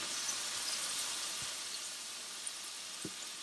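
Smash burger patties fry on a hot griddle with a faint, steady sizzle, broken by a couple of light clicks or taps.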